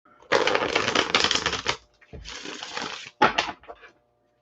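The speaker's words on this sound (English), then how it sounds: "Okay, so Colleen, we're going to throw a card." Tarot cards being shuffled and drawn by hand: three dense, papery riffling bursts, the first and longest lasting over a second, then a shorter one and a brief final flurry, fairly close with short pauses between.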